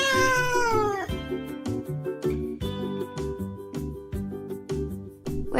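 A cat lets out a long rising meow, then a run of shorter repeated meows in a rough rhythm, close and loud, with no voices.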